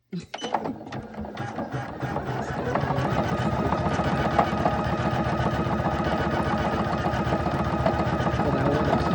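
An embroidery machine stitching over a layer of material, its needle working in a rapid, steady mechanical rhythm that settles into continuous close whirring after a few sharper starting clicks.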